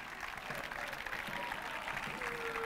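Audience applause at the official presentation of the Carpegna Prosciutto Basket Pesaro 2024/2025 team in a town square, steady, dense clapping from a large crowd that holds at an even level throughout.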